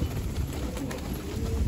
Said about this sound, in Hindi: सारे कबूतर हमारे खुले हुए हैं